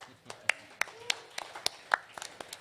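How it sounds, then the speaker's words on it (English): A sparse, faint round of applause for a speaker at a business pitch event: a handful of separate claps land at uneven intervals, quiet and somewhat distant. "I think that deserves a round of applause"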